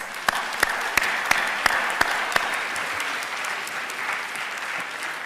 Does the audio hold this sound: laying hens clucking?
no